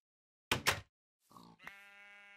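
Two short grunting calls, then a brief pause before a sustained, nasal bleat-like cry from Minecraft sheep; quiet and isolated.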